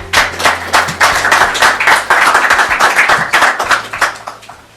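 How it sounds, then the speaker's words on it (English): A conference audience at a Davos gathering gives a warm round of applause, dense steady clapping from many hands filling the room for the full stretch before tapering slightly at the end. "Can I ask just for a warm round of applause for him, please?"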